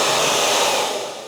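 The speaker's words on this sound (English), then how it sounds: "So I'll just do this area here with the hairdryer," A handheld hairdryer blows steadily at close range inside an oven, around the light bulb fitting, a loud continuous broadband whoosh that eases off slightly at the end.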